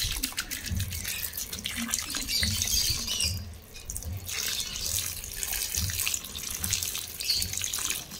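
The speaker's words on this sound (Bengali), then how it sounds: "ভালো করে ধুয়ে নেব।" Mangoes are washed under a running kitchen tap, with continuous close water gushing and splashing into a sink as the fruit is turned over, the flow briefly dipping partway through.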